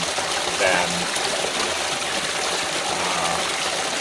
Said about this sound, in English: here is a much larger body of water and much louder